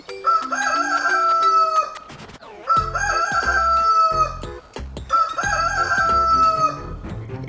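A rooster crows three times in a row, loud and close, each long call separated by short pauses and a little clucking.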